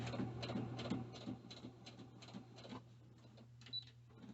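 A sewing machine stitching fabric and a changing pad makes a quiet mechanical whirring with a steady low hum and rapid rhythmic clatter, running in short bursts.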